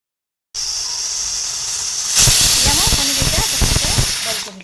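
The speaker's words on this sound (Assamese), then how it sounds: "কুকাৰ এটাত বইল কৰি ল'ম।" A pressure cooker boiling eggs lets out a steady, faint hiss of steam that suddenly swells into a louder, forceful rush partway through, while a person talks over the sound.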